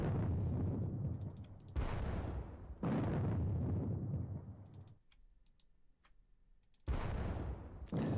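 Artillery guns in a strategy video game fire in a series of loud booming blasts, several heavy salvos with rumbling decay, separated by a quieter stretch with light ticking clicks.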